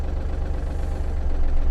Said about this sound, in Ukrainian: І ми даємо газу. Наш трактор зірвався.